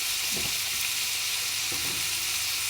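Red lentils and potato, seasoned with salt and turmeric, sizzle steadily in a pan with a constant frying hiss and two soft stirring scrapes, no talking.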